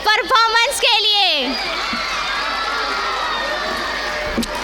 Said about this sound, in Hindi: जोरदार तालियां इस परफॉर्मेंस के लिए